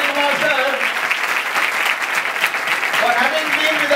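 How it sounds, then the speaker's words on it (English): Audience applause after a talk at a spiritual gathering hall in Delhi, sustained clapping for several seconds with a voice speaking over it at the start and end. "A round of applause."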